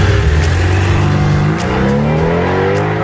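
A car engine revs loudly and continuously, its rising harmonic tone sweeping upward through the whole stretch with no voices.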